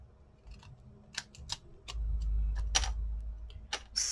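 Scissors snip paper strips for a Christmas craft: several crisp, separate close cuts spaced irregularly over a soft background rustle, with no talking.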